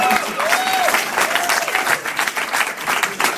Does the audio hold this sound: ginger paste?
no